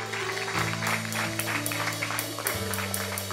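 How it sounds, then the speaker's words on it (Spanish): Church congregation clapping, a dense patter of many hands with a steady rhythm over a sustained musical tone that shifts pitch, with faint voices mixed in. "Dale un aplauso al Señor."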